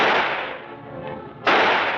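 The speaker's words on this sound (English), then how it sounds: "they are not immune to flinching at the sound of the blanks during production" Blank gunshots fired on the set of a horror film: a loud sharp report decaying over about a second and a half, then a second abrupt bang near the end, no talking.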